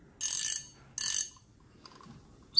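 A fishing reel's mechanism clicks in two short, loud ratcheting bursts less than a second apart, followed by fainter scattered ticks and a final sharp click, close up and alone.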